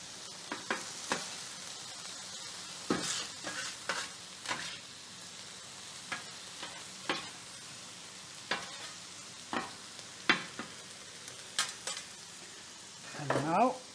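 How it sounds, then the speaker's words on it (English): Ground meat browning in a pan for a Tex-Mex taco salad, a soft steady sizzle broken by repeated scraping stirs of a utensil against the pan, close and fairly quiet, with no talking. "now it's browning up nicely in the bottom"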